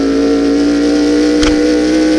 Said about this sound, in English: Oh, that engine sounds bad.